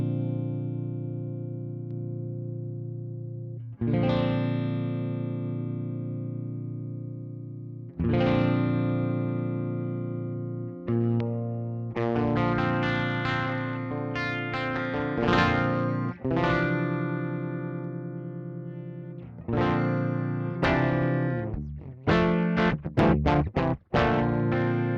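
An electric guitar runs through a Tech 21 PSA 2.0 Sansamp with its high and low EQ adjusted: strummed chords ring out and decay, followed by quicker picked notes and a flurry of strums near the end.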